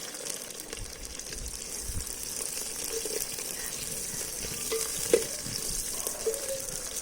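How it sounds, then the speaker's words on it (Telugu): Vertically sliced onions fry in a pan for a goat intestine gongura curry, a steady moderate sizzle with occasional soft stirring clinks, no talking. "ఇవి బాగా వేగాలి, బ్రౌన్ కలర్కి వచ్చేంత వరకు మంచిగా వేపుకుందామండి."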